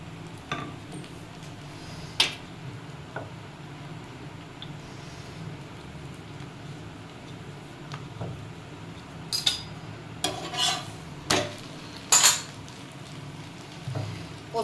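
A paratha frying in a pan for homemade chicken rolls: a low steady sizzle runs throughout, broken by several sharp clinks of a utensil against the pan, clustered toward the end.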